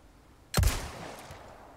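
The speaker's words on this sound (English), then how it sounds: "Can you just fire off one shot into the lake?" A single loud gunshot fired out over a lake in Resident Evil 4 Remake, a sharp close crack followed by a booming tail that fades slowly across the water, with no voices.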